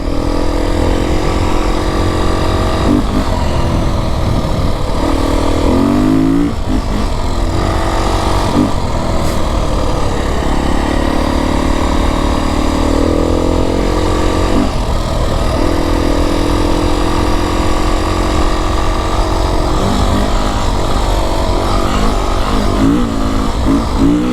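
A 2025 Beta 350 RR X-Pro dirt bike engine runs loud and close throughout, holding a steady drone with brief dips and rises in pitch as it shifts into third gear and cruises.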